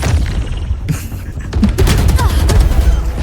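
Gunfire in the tactical shooter Valorant: a dense burst of shots and thuds builds after the first second and keeps going loud, with brief voice sounds mixed in among the firing.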